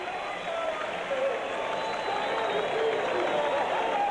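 A ballpark crowd on its feet at a 1984 Mets game, sustained applause and cheering for a standing ovation, a dense continuous roar without a break.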